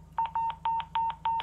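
Touch-tone phone dialing in a GTA roleplay game: five paired DTMF key beeps at a steady rhythm, clear and close with no talking over them.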